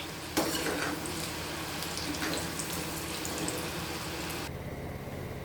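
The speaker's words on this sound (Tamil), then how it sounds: "இப்போ பாருங்கள் பூசணிக்காயை எண்ணெயில் பொரிச்சாச்சு" Pumpkin pieces frying in hot oil in a home kitchen, a steady close sizzle with faint stirring that runs continuously and drops off abruptly near the end.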